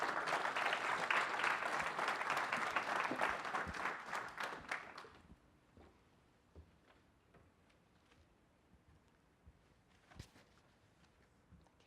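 An audience applauds to welcome Dr. Sugata Mitra, a dense, loud burst of many hands clapping that dies away after about five seconds into a quiet room with scattered faint clicks and shuffles.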